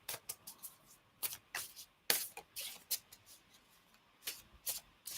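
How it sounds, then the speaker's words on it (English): A deck of tarot cards is shuffled nearby in quiet bursts, soft riffling and papery slaps in an irregular rhythm with short pauses between. "I'll start shuffling for you."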